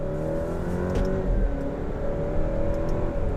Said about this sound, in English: put the car over into sport mode and use these paddle shifters